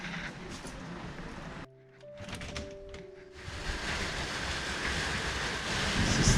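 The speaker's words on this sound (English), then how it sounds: "This is stormy weather we're having today." Rain and gusting wind on a stormy day, a broad steady roar outdoors that briefly drops away before building louder again toward the end.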